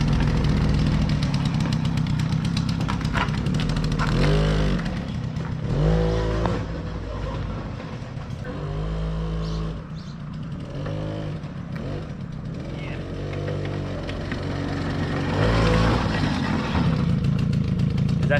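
A small motorbike engine runs while being ridden, with an uneven note that rises and falls as the throttle is worked, loud and close throughout with no clear talk.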